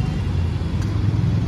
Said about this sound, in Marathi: आता बघा किती ट्रॅफिक झाली आहे